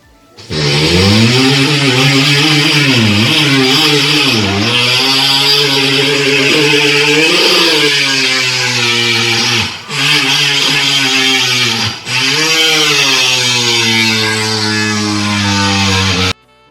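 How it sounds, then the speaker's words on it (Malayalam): A chainsaw for cutting trees runs continuously and very loud up close, its buzzing engine note rising and falling as the throttle shifts, with two brief dips near the end. "മരം മുറിക്കുന്ന ഒരു മെഷീന്റെ ശബ്ദം കേട്ടോ"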